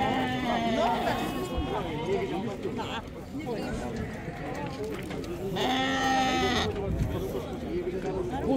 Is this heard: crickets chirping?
no